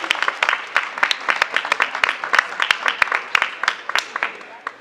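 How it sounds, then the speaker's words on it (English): An audience at a college African cultural event breaks into applause, sharp individual claps in an uneven, lively rhythm, fairly close and loud, with speech mixed in. "Please, a round of applause,"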